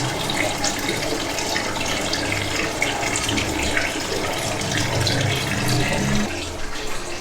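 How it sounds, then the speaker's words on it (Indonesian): A wave maker set beneath a koi pond waterfall churns the water into air bubbles, a loud, steady splashing rush that runs without a break, with no voices. "saya arahkan si wave maker ini di bawah air terjunnya nih. Jadi di output si wave makernya dia malah menghasilkan si gelembung-gelembung udara nih"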